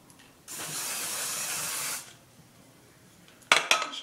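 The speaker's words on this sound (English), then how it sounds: "Maybe I'll try to put some more hairspray." Hairspray from an aerosol can hissing onto hair in one steady burst of about a second and a half, followed a couple of seconds later by brief clattering handling noises.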